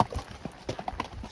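A trail horse's hooves clop steadily along a rugged mountain trail at St. Mary's Falls in Colorado, a close, even walking rhythm of distinct hoof strikes.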